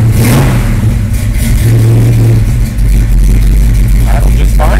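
A 1967 Chevelle SS 396 V8 engine revs hard nearby, a loud, continuous throaty rumble rising and falling with throttle blips, with possible faint voices under the engine noise.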